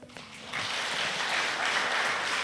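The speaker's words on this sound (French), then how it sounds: "Vous pouvez les applaudir un petit peu." An audience at a school awards gala claps briefly for a secondary-school student, a thin start that swells after half a second into steady, moderately loud applause held to the end.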